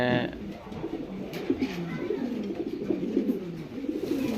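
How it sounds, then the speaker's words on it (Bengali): Racing homer and local deshi pigeons coo close by in a steady, overlapping chorus of low, throaty rolling calls that continues throughout. "6-7টা কালার কবুতর আছে, মূলত যা দুইটাই রেসার হোমা আর হচ্ছে কিছু দেশি"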